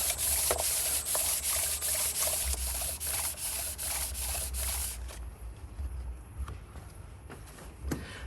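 Wet sanding on an engine block deck surface kept soaked with WD-40 during a head gasket job; close, steady rhythmic rubbing strokes for about five seconds, then softer scattered scrapes and taps.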